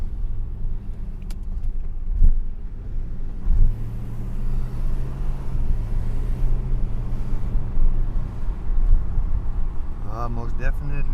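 A 1979 Mercedes W126 500 SE V8 with a muffler-delete straight-pipe exhaust and mid damper drives off, its deep, steady exhaust rumble continuous and close throughout, with speech heard over it.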